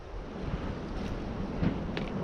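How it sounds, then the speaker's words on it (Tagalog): Strong wind buffets the microphone outdoors at a window renovation site, a steady roaring gust with fluctuating low rumble and no speech. "Sobrang na naman lakas ng hangin."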